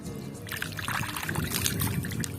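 Water is poured into a bowl in a steady trickling, splashing stream that runs continuously at moderate, close range.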